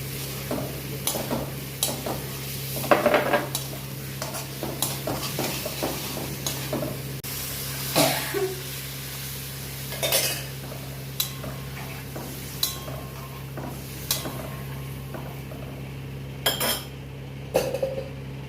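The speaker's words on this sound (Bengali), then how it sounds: "দেখো এই যে তেল ছেড়ে এসছে, এবারে আমি আলুটা দিয়ে দেবো।" Potatoes added to hot oil for a vegetarian aloo dum, frying with intermittent stirring and metal spoon clinks against the pan, close and clear over a low steady hum, no voices.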